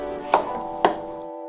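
Knife cutting through ripe avocado into slices for sushi roll filling: two distinct soft chopping taps on a board, about half a second apart, close and clear with no talking.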